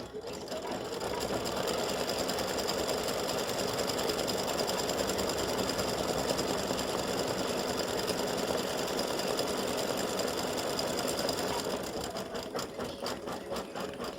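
An embroidery machine sews black satin-stitch lettering in a fast, steady mechanical whirr that runs continuously for most of the stretch before easing and changing character near the end.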